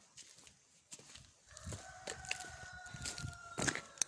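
Chickens, including Abyssinian breed, cluck and murmur softly nearby in a quiet barnyard, with a few short clucks and rustling, no one speaking.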